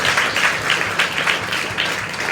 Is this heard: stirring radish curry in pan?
no